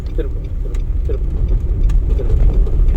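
A car engine hums steadily from inside the cabin during a driving lesson as the car shifts into second gear, a low continuous drone under a Tamil-speaking instructor's voice.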